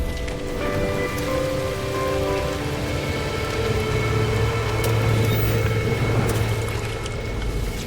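Steady rain pours from a storm in the video game No Man's Sky, a dense continuous hiss with low rumbling beneath and a synthetic tonal drone layered over it, loud and unbroken throughout.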